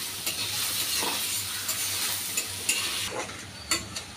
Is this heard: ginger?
yes